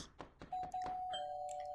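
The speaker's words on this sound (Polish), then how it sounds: "To znowu dzwonek do drzwi?" A doorbell rings in the Roblox game Brookhaven RP, a clear sustained electronic tone that comes in after a few soft knocks and thuds, quiet overall.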